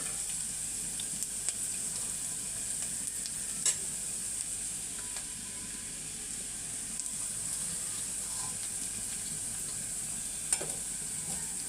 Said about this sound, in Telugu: ఆనియన్స్ బాగా ఫ్రై అయిపోయినాయి. ఇందులో మనం అల్లం వెల్లుల్లి పేస్ట్ వేసుకున్నాం